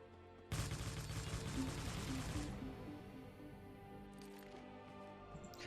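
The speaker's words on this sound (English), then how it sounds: "There's some shots coming through." Gunfire in the online shooter Cyber Hunter during a duo tournament match, a sudden loud volley of cracking shots that runs for about two seconds, then fades into quieter game ambience with a few faint distant reports.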